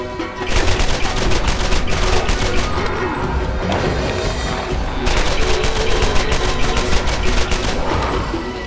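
Rapid bursts of automatic gunfire from a gun in the Borderlands video game, loud and close, with repeated sharp shots in two long volleys separated by a brief lull.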